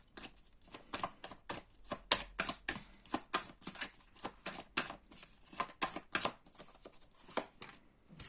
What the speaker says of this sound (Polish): teraz tylko przetasuję i zrobimy rozkład